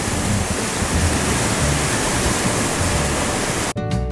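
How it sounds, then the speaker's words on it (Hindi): Roaring rivers and mountain streams in Leepa Valley, Azad Kashmir, pour in a dense, loud, continuous rush of white water that fills the whole stretch, cut off abruptly at the end. "और शोर मचाते नदी नाले।"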